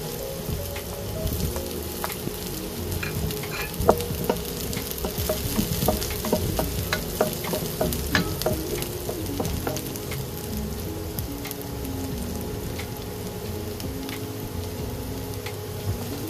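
Onion and garlic fry in a pan for chicken sopas, giving a steady close sizzle with crackling pops and scattered stirring scrapes that run continuously, with no talking.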